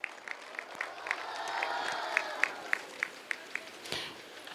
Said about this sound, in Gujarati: આપણે એમને જોરદાર તાળીઓના નાદથી વધાવતા રહીએ.